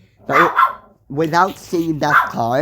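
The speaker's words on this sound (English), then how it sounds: "Sorry, that was my dog barking in the background." A dog barks several times close by, sharp repeated barks in quick bursts with short pauses, while a person speaks over them.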